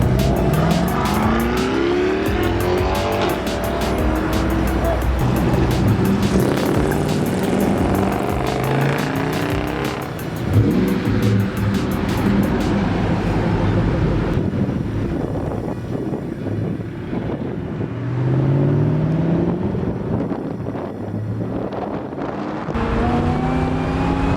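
A Ford SVT Cobra's engine roars while it accelerates, with a rising, high-pitched supercharger whine that climbs repeatedly over continuous loud engine and road noise.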